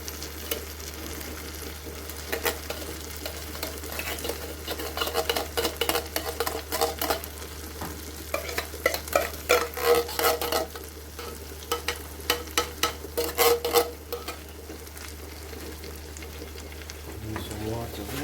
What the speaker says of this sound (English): pour out the baked bean inside the corned beef